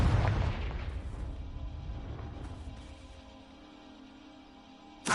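A Confringo blasting spell explodes in the Hogwarts Legacy video game, a loud deep boom that decays into a long rumbling tail, with another sharp burst at the very end.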